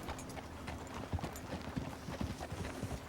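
A horse's hooves clip-clop at a steady trotting rhythm in the Red Dead Redemption 2 video game, fairly soft over a background of outdoor ambience, with no talking.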